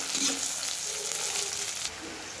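Chopped onion dropped into hot oil already holding black cumin and garlic, a loud sizzling crackle that dips slightly after about two seconds and continues steadily, with no talking.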